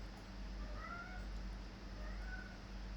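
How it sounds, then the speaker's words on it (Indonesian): A house cat meows twice, faint high calls laid over a steady low hum with no talk. "Soal itu kucing saya ya,"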